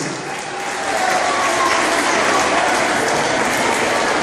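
Audience applause for a dance studio at a dance competition festival award ceremony, a dense, loud, sustained clapping that swells within the first second and holds steady.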